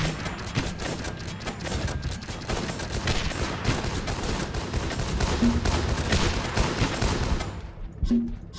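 Dense, sustained gunfire from the video game Guns Up!, a steady crackle of overlapping shots and bursts with a few heavier thumps, loud and continuous throughout.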